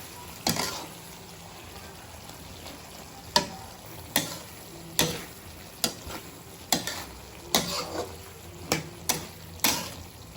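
A spoon stirs sigarilyas (winged bean) vegetables in a simmering pan, giving sharp, evenly spaced scrapes and clacks against the pan over a faint, steady sizzle.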